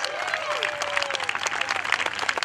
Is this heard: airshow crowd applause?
yes